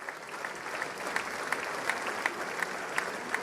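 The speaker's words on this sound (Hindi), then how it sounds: "तालियों की गड़गड़ाहट के बीच" Sustained applause fills a joint session of the US Congress as the Indian Prime Minister arrives to speak, a broad wash of many hands clapping at an even, unbroken level.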